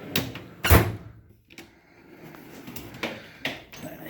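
A tool box drawer holding Milwaukee power tools slides open with a short scraping rattle, followed by quieter clicks and shuffles of small objects nearby.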